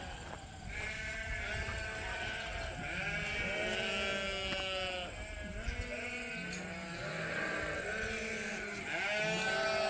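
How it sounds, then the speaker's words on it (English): Suffolk and Dorset ewe lambs bleat repeatedly at close range, several overlapping calls of varying pitch forming a continuous flock chorus with no talking. "Next time we'll be tattooing probably the Suffolk ewe lambs and the Dorset ewe lambs from this year."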